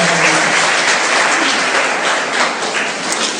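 Loud, sustained applause from an audience fills a school's annual prize distribution ceremony, dense clapping steady from start to finish with no voice over it.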